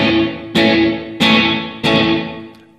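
Electric guitar played through reverb with the dry and wet signals at equal level: three struck chords, each ringing and decaying, with a distorted tone, heard alone.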